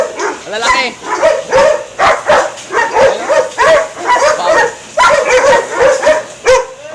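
Several dogs bark and yip in quick, repeated bursts close by, with people talking over the commotion.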